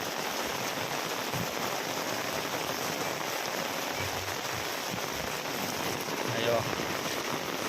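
Heavy monsoon rain falls in a steady, dense wash, with faint voices murmuring under it and a brief bump near the end.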